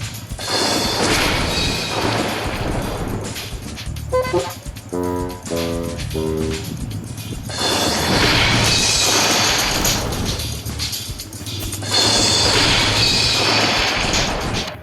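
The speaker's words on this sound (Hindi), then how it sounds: "क्योंकि वो घर रेत पर बनाया गया था, ये एकदम से नीचे गिर गया।" A house built on sand collapsing during a storm, with sustained loud crashing and rumbling that rises and falls in several heavy surges.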